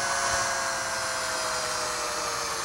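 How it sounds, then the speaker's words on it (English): A drill runs steadily while boring a hole into HVAC supply ductwork, giving a continuous, close, high-pitched whine with no pauses or talk. "Next, drill a hole in the supply ductwork."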